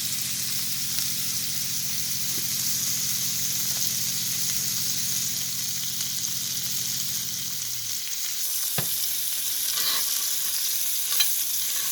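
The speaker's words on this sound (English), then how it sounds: "So you're just basting it with the butter and garlic and salt mixture?" Beef tenderloin sizzles steadily in a pan while being basted with butter, garlic and salt, a loud continuous crackle with a low hum that cuts off partway, followed by a few clinks.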